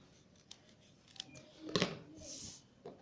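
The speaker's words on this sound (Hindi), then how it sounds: "इस जायद को आप काट लें" Close scissors cut through paper for a craft project, making a few faint snips and one louder crisp cut, with paper rustling and no talk.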